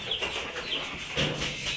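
Golden hens clucking softly in short, repeated calls, fairly close, with no talk.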